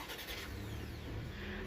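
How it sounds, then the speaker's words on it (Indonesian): A Toyota Rush GR Sport's engine, push-button started, turns over and settles into a steady idle hum, heard briefly and up close with no talk. "kedengeran ya suara mesin, suara starternya itu lebih baru ya"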